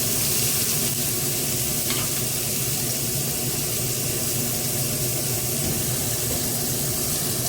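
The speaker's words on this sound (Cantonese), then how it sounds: "等佢喺個鑊度煎一陣。" Salmon pieces frying in a hot wok with ginger slices, a loud, steady, close-up sizzle that runs unbroken throughout with no talking.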